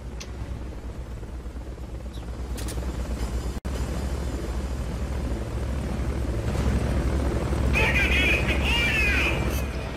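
Helicopter from the video game Metal Gear Solid Peace Walker dropping down, a steady rotor drone filling the clip at moderate loudness with brief higher whines near the end.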